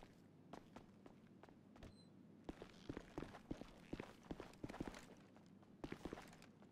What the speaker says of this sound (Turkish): Komiserim ayak sesi var.